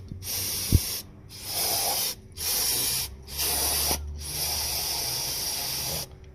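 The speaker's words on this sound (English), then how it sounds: "Now you can take this same stuff and spray it down in here too to clean the valleys out." Several bursts of aerosol degreaser hissing onto oily car engine parts, each a second or so long with short pauses between, close and steady.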